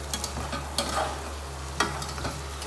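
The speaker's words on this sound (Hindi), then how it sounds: "इसमें तकरीबन मैंने साफ की हुई कलेजी डाल दूंगी, आधा किलो के करीब है।" Goat liver frying with onions in a pan, a steady sizzle with a few stirring scrapes and clinks, close and moderately loud, no talk.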